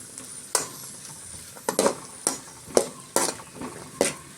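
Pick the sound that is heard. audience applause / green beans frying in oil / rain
green beans frying in oil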